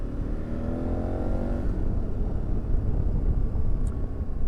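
KTM 1290 Super Adventure S motorcycle engine rising through the revs, then dropping and rumbling on at a steady level as a clumsy manual gear change goes through without a quick shifter; loud, close and continuous, with heavy wind noise.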